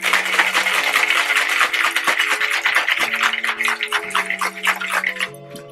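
A cocktail shaker filled with ice for a breakfast martini is shaken hard, giving a dense, rhythmic rattle of ice against the tin that is loud and close before it slows and stops near the end.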